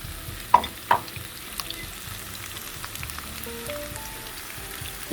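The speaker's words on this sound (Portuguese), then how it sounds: "Estou refogando numa frigideira grande, larga" Broccoli, fresh peas and whole garlic cloves sautéing in a large, wide frying pan, a soft, steady sizzle with a couple of sharp clanks early on, close and fairly quiet.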